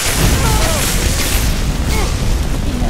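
Dense, loud rumbling blast with crackling debris in the video game Skyrim, sustained without pause, mixed with synthetic game effects and a faint voice underneath.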